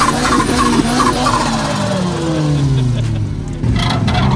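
A car with an SR20 engine and a loud, loose exhaust revs hard and rasps continuously, up close, with a rough wavering drone.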